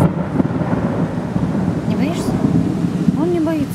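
Steady rain hisses with a low rumble of thunder underneath in Yekaterinburg, while faint voices and a brief chirping sound come and go in the background.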